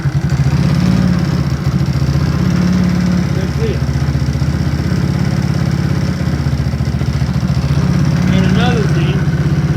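A supercharged Postie Bike motorcycle with nitrous idles close by in a steady, loud, rapid single-cylinder putter, slightly high-revving, while someone talks over it.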